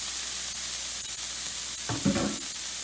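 A smashed burger patty pressed flat on a hot griddle, sizzling with a steady hiss that swells briefly louder near the end, with no talk.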